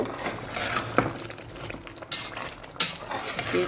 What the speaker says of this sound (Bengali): এই যে আমি গোস্ততে ডালগুলো দিয়ে দিচ্ছি মুগ ডালগুলো এবার ভালো করে মিশিয়ে নিব